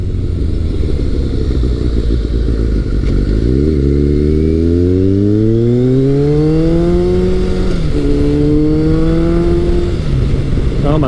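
A Kawasaki ZRX1100 retro motorcycle accelerates on the road, its loud close engine note rising steadily through a gear, dropping at a shift, then climbing again over constant wind roar.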